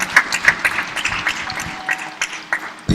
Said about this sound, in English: A very big round of applause to her, please.